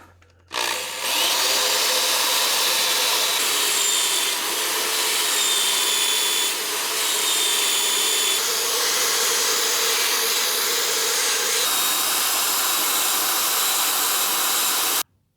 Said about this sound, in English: I've got this little Scotch-Brite ball attached to my drill